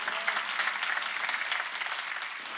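A church congregation at a Korean worship service claps together in steady, moderately distant applause for a few seconds, with no voices standing out.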